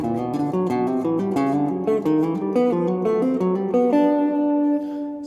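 A chromatic approach-tone triad exercise played up to speed on guitar: quick runs of single notes stepping through diminished and other triads, close and clear, ending on a held note, no talking.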